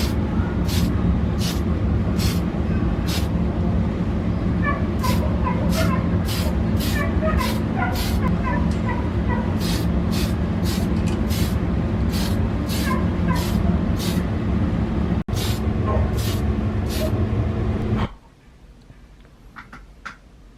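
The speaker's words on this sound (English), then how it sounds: "Now that all the details are done, we are going to seal it with a clear coat spray." Clear coat sprayed onto a 1:48 Megasize Zaku II model kit, a steady close hiss in short repeated bursts over a constant background, ending abruptly near the close.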